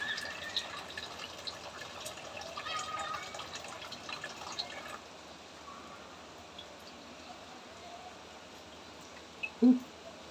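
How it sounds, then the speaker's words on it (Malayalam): Rain drips and patters outdoors in a soft, steady wash that eases slightly midway, with one sharper drip near the end and no clear talk. "2 മക്കളെ മഴ നനയിപ്പിക്കുക."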